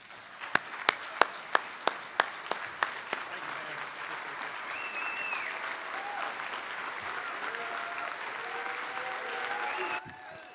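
An audience applauds to welcome Texas Governor Greg Abbott at an indoor event. It opens with several distinct single claps, then swells into steady sustained applause across a large room that cuts off sharply at the end.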